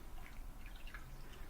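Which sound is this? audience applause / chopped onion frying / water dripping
water dripping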